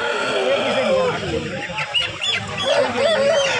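Chickens cluck and squawk at a poultry market, with someone talking over the birds throughout.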